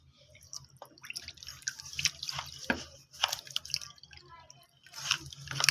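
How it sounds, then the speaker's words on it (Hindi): Water poured into sifted semolina for Punjabi halwa, heard as soft irregular drips and splashes with trickling liquid, close and fairly quiet, with no talk. "तो अब मैं इसमें ऐड करूँगी पानी।"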